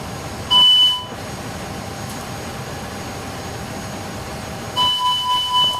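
Airbus A300 cockpit in a flight simulator sounding warning chimes during fire loop and squib tests: one short tone burst, a long pause, then a second longer chime over steady cockpit hum.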